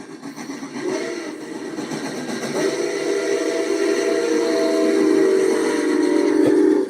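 A train whistle sounds in the distance as a sustained tonal blast, held and swelling over several seconds against low background noise.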